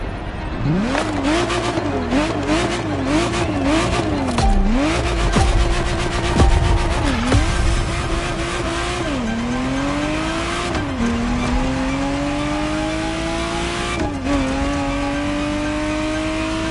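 Ferrari Testarossa in the racing game The Crew Motorfest, its engine revving loudly and repeatedly through gear changes, pitch climbing then dropping with each shift, with tire squeal and no talk.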